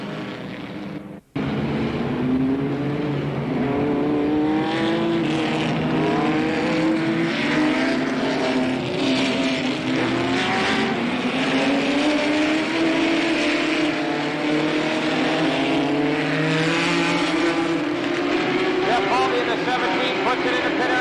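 Multiple race cars roar around the Slinger Nationals oval during a 1985 heat race, engines sweeping up and down in pitch continuously, loud and close, with an announcer talking over the racing.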